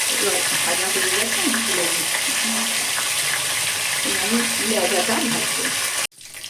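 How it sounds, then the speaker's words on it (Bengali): A fish head fries in a pan of hot oil for a Bengali fish curry, a steady loud sizzle running nearly unbroken before it cuts off abruptly at the end. Voices talk over parts of it. "আমি মুড়োটা উল্টো পাল্টন ভেজে নেব"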